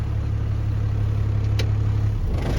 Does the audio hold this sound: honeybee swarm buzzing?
no